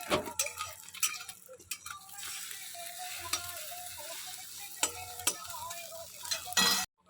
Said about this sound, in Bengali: বাবাকে ডিমটা ভেজে দিই মানে এটা ভেজে তারপরে মাছটা ভাজবো